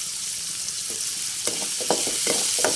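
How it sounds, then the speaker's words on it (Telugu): Cumin and sliced onions with a little salt fry in hot oil, a loud continuous hiss close by, broken by a few sharp spatula scrapes and clicks toward the end, no voices. "ఉల్లిపాయలు వేసేసుకున్నాను కొంచెం సాల్ట్ కూడా వేసి వేయించుకుంటున్నాను"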